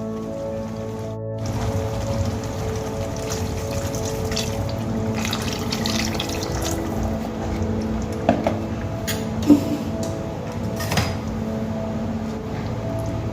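Water pours into a pan of prawn curry with mustard paste, a steady close trickling and bubbling rush that continues evenly, with a few soft clinks near the end and no talking.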